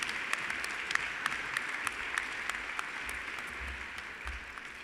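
Faint applause rises from the crowd at a university fall commencement ceremony, with scattered distinct claps over a distant wash of noise and low rumbles near the end.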